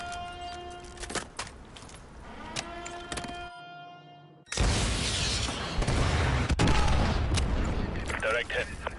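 Missile strike in Call of Duty Modern Warfare 2: after brief gunfire and a short silence, a massive explosion erupts and rumbles on loudly for several seconds.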